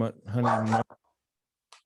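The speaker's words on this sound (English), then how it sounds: "It's because the damn dog, yo, she just gets going and she doesn't stop." A dog barks in a quick burst at home during an online call, close and loud, then stops abruptly into silence with a faint later sound.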